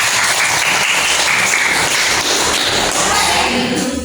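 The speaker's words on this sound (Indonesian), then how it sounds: "Tepuk tangan untuk kelompok 1" A group claps for the first presenting team in a school supervision and coaching session: loud, close, steady applause with some thumps and taps throughout.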